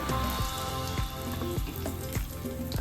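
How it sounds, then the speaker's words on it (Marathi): Cumin, mustard seeds, asafoetida and curry leaves sizzling in hot oil, a loud, close, continuous crackle broken by regular popping bursts from the spluttering seeds. "भाजीमध्ये अगोदर तेल टाकलंय जिरं मोहरी टाकते थोडासा हिंग टाकते कढीपत्ता टाकते"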